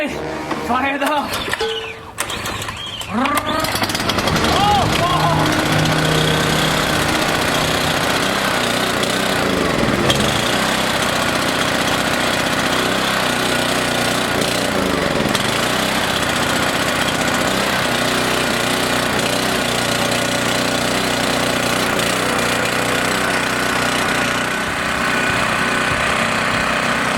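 A small gasoline engine running on 14 to 15-month-old pump fuel with no additive catches after several pulls, then settles into a loud, steady, close-up roar that holds for the rest of the clip.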